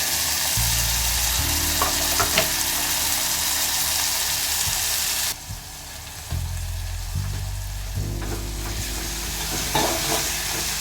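Ground green chilli paste sizzling in a hot pan while being stirred, a loud, continuous frying hiss with scraping stir strokes and a brief lull partway through.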